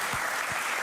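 Audience at a DevOpsDays Amsterdam conference applauding a speaker, a steady wash of many hands clapping, dense and even through the whole short moment.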